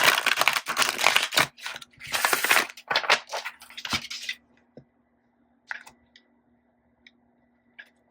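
Tarot cards are shuffled in quick rustling bursts for a few seconds, followed by quiet, with a few soft taps and clicks as the deck settles.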